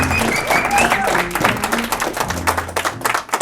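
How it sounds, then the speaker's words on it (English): An audience at a magician's sleight-of-hand show bursts into dense, sustained clapping with a few cheers, loud and close, tapering slightly toward the end. "let's give a huge round of applause to Caleb Simpson"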